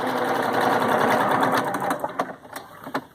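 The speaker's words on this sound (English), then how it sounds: "So I'm just going to use my quilting stitch. And I'm going to sew along this as neatly as I can." A sewing machine running a quilting stitch along a fabric seam for a face mask, a fast steady whirring hum that slows into a few separate clicks and thumps near the end, close and fairly loud.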